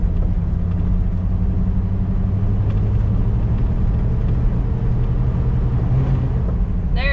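A Jeep drives along with a steady, continuous engine and road rumble, its drone shifting in pitch as the transmission changes gear with a late shift, loud and close throughout with no talking.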